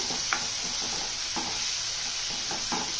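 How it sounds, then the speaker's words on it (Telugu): Tomato rice with coriander powder stirred in a hot pan: a continuous close sizzle with several soft scraping strokes of a spoon at irregular intervals, no voices. "ఒక్కసారి అంతా కలిపేసుకొని"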